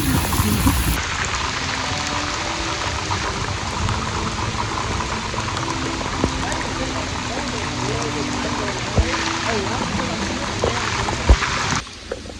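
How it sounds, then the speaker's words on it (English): Heavy rain pours non-stop during a storm in Austin, Texas, a dense, even hiss of drops hitting surfaces close by, steady and loud throughout. "it's been horrendously raining non-stop for the last about hour"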